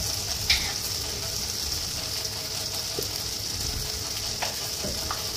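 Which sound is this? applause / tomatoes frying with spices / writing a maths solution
tomatoes frying with spices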